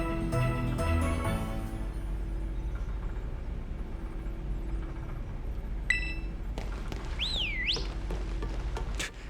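Rising and falling whistle tones in a Pokémon Scarlet game, a brief swooping whistle near the end following quieter chimes and a low steady hum.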